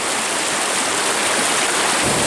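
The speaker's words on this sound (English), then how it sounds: "This waterfall is just raging compared to what it was before." A raging waterfall swollen after heavy rain on the Black Forest Trail in Pennsylvania roars as a loud, steady broadband rush of falling water, continuous and close with no pauses.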